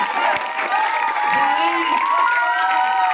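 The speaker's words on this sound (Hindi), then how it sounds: "आज देवेंद्र जी का जोरदार तालियों से स्वागत करें।" A welcoming crowd cheers and shouts for Devendra Singh Sehrawat, a social worker and young leader, arriving in a village; continuous voices ring out with the cheering and spill over into steady chanting throughout, though distinct clapping is hard to pick out.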